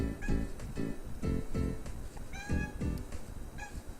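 A house cat gives a run of strange, repeated meows and trilling chirps while watching the ceiling, about six close calls in a loose rhythm over steady background noise.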